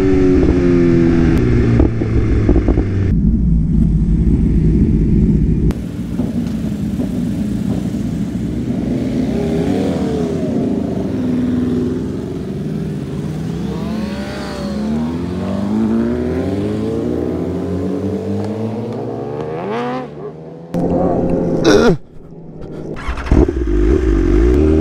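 A BMW M1000RR sport motorcycle engine revs loudly close by, rising and falling through throttle blips with a deep rumbling exhaust, then sharp bursts near the end.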